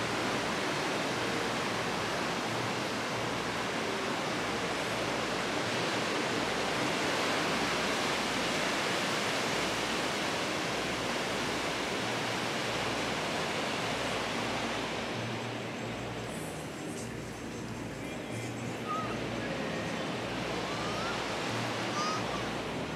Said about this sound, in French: Les vagues pour aller faire du surf bientôt.